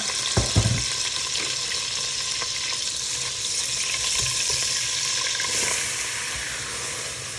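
Butter and flour cooking together in a saucepan, a steady close sizzle with a few clinks of a utensil stirring against the pan near the start.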